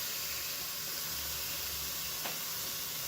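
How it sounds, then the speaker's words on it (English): A quiet, steady sizzling hiss runs continuously as a burger patty fries on a hot barbecue grill, with a soft clink partway through and no talking. "You hear that sizzle. It's a good thing."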